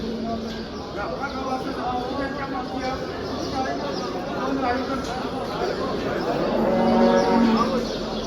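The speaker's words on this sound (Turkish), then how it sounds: "Bünyamin Aga'nın 3 tane kurbanlığı var burada. 2 düve 1 dana" Cattle, heifers and calves, moo repeatedly, some close and some farther off, amid a busy crowd at a livestock market with people talking over the lowing.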